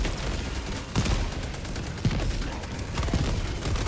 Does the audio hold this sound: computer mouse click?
no